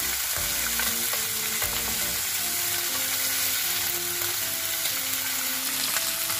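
Fish that has just been flipped sizzles in a frying pan, a constant loud crackle and hiss with faint scraping, with no talking.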